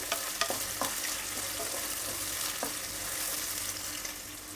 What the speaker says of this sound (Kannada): ಮಧ್ಯಕ್ಕೆ ಸೀಳ್ಬಿಟ್ಟು ಉದ್ದುದ್ದ ಕಟ್ ಮಾಡ್ಕೊಂಡಿರೋ ದೊಡ್ಡ ಸೈಜಿಂದು ಒಂದು ಈರುಳ್ಳಿ ಹಾಕಿದ್ದೀನಿ